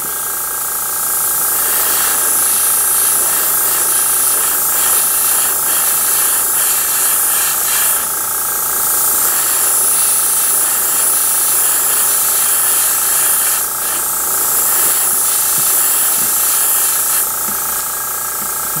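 An aerosol can sprays fine coats of primer over paint, producing a loud, continuous hiss that runs almost unbroken throughout with slight swells and dips.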